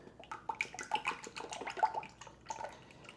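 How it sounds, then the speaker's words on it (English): Heavy whipping cream pours into a container for garlic butter, a soft, uneven liquid splashing and dribbling heard up close and fairly quiet, with no talking. "So we're going to start off with a container of heavy whipping cream. We're going to pour it in."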